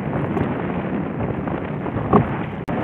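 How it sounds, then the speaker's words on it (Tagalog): Strong wind blowing across a fish corral at sea, heard as a steady, muffled rumble and buffeting on the microphone with one brief bump near the end and no speech. "Malakas na yung hangin."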